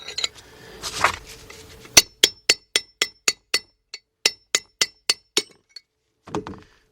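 A long steel chisel hammered against a front wheel bearing race on a 1996 Ford F150 pickup, a rapid series of about fifteen sharp, ringing metallic strikes in steady rhythm, close and loud, after a brief scrape.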